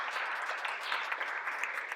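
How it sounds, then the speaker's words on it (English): Light applause at a city's State of the City address, given in appreciation of the library: soft, dense clapping from an audience, fairly distant and steady for a brief moment. "I'd like to give a light applause for them because that's really beautiful."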